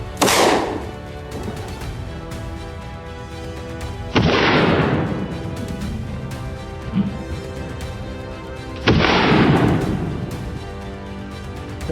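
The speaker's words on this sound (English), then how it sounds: "The shot echoed through the forest walls" Hunting shots ring out in a forest where a wild boar charges. Three loud booms arrive several seconds apart, each trailing a long rolling echo over low background rumble.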